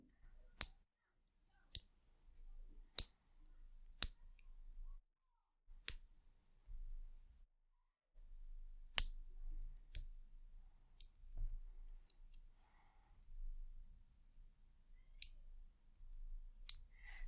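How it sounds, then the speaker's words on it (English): Fingernails snipped into a pointier tip with small clippers during a manicure, about ten crisp, sharp clicks spaced a second or two apart, close and alone in a quiet room. "I am going to sort of cut them into a pointier"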